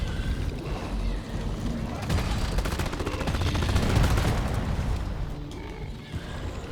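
Rapid video game gunfire from a Deep Rock Galactic-style overclocked weapon, a dense stream of shots rattling continuously at steady loudness with no clear pauses.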